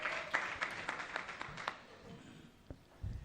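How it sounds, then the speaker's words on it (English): A small audience at a documentary screening on journalists' trauma claps in scattered, fairly faint bursts that thin out after a couple of seconds, with a few isolated claps trailing at the end. "I think you can clap better than that."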